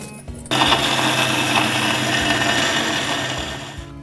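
A kitchen mixer grinder whirs loudly and steadily as it grinds chillies, papaya, onion, mint, coriander and lemon, starting abruptly after a short pause and running continuously close by.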